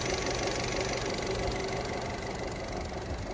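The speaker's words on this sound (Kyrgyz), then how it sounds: "Мотору жакшы иштеп турат" A 2017 Skoda Rapid with a 1.6 engine and manual gearbox idles steadily, a close, even mechanical hum with a faint rhythmic ticking and a thin high whine above it, no talking.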